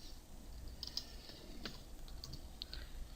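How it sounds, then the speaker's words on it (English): Light typing on a computer keyboard, a few scattered soft key clicks at moderate distance in a quiet room. "I'm going to type in actuator pin."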